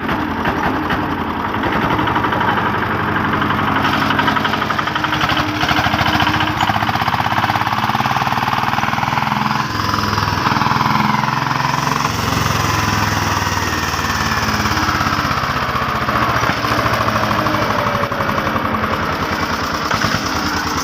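A Kubota RT140 single-cylinder engine runs steadily on a wooden-bed farm truck, its loud continuous chugging rumble holding an even throb throughout with no speech over it.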